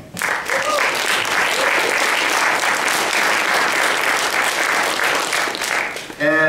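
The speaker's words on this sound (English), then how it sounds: "So a huge thanks and round of applause to Ryan, Christine, and Nathaniel." An audience at an art and media talk breaks into sustained applause, a dense and even roar of many clapping hands. It fades briefly near the end before a voice starts speaking.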